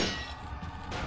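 Knife stabs in the video game Resident Evil 4: a metallic clang at the start, then a softer hit, over a low game background.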